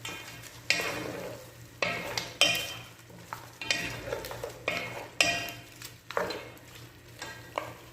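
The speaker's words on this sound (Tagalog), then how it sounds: "Haluin lang natin mga ka-recipe." A spoon scrapes and clanks against a pot while beef adobo with sugar is stirred, giving repeated rhythmic strokes about once a second over a soft sizzle, close up with no talk.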